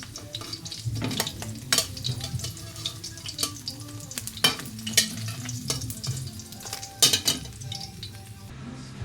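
Steady sizzling of vegetables refrying in a pan for Ilocano dinengdeng, with sharp crackles and spatters plus occasional clinks of a utensil stirring against metal.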